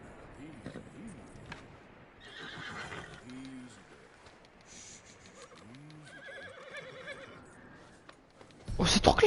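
Horse in the Western game Red Dead Redemption, neighing in several loud, falling whinnies alongside hoof clops, while someone talks over it and a burst of louder noise closes the clip.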